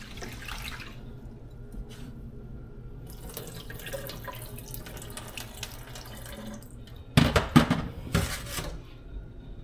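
Rice being rinsed under a running kitchen tap in a small pot, low trickling and dripping water, then a louder splashing stretch near the end, close with no speech.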